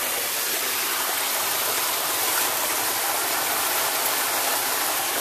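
Spring water flowing at about 2,000 gallons per hour gives a continuous, even rushing hiss, close and steady with no pauses and no voices.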